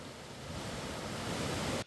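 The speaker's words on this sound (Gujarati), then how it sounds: "ગોળધા ડેમ ઓવરફ્લો થયો" A broad, steady roar of water rushing over the overflowing Goldha dam in Mandvi, Surat district, after heavy rain fills the air, loud and constant, then cuts off abruptly.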